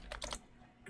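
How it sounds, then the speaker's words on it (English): Rapid clattering keystrokes on a computer keyboard, a quick burst of several close taps followed by a short pause and another tap starting at the end. "crazy typing"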